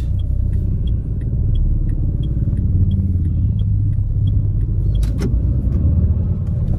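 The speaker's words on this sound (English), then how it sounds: "getting behind the wheel of the Duster Turbo, let's head out" A 2021 Renault Duster Turbo on the move, its steady low engine and road rumble filling the cabin continuously, with faint repeated ticking like an indicator and a brief clunk near the end; no talking.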